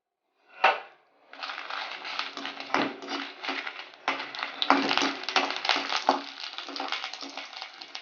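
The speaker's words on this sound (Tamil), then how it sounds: "எண்ணெய் காஞ்ச உடனே காஞ்ச மிளகா வறுத்துக்கோங்க" Dried red chillies frying in a little hot oil, a dense close crackle and sizzle with scattered pops and stirring scrapes that runs steadily after a brief opening clatter, no voices.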